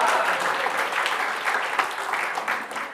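Congregation applause fills a church during a sermon, a dense, steady wash of clapping hands that continues evenly throughout, fairly close and loud, with no other sound standing out.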